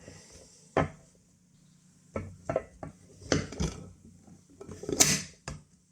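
A stainless steel mess tin gets its lid set in place: scattered metallic clanks and knocks, a few sharp taps and one brighter scrape, close up with quiet gaps between and no speech.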